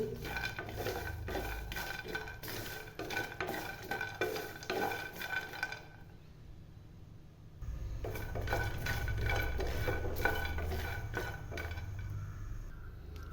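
Peanuts dry-roasting in a pan for chutney, with a spoon repeatedly scraping and rattling the nuts around the metal surface, a brief quieter pause midway, then steady stirring again, close and clear.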